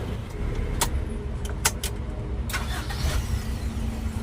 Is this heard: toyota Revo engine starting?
yes